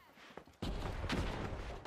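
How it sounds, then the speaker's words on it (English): A sharp sniper rifle shot cracks out in a video game match, hitting suddenly and loud, followed by a dense, rumbling wash of battle noise that keeps going. "I just got sniped"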